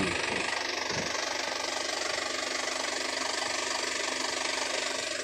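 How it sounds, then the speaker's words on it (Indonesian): An Isuzu Elf NKR 55 long-body truck's diesel engine idles steadily at close range, a smooth, even rumble with a faint rhythmic knock running the whole time and no talk over it. "mesinnya juga saya rasa masih halus, suaranya enak didengar ya"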